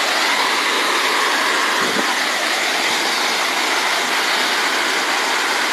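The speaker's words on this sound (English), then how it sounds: "Get over to the waterfall." Cascade Falls at Nelson Kennedy Ledges, flooded and in full flow, roars as a dense, steady rush of white noise, loud and close, with no pauses and no voices.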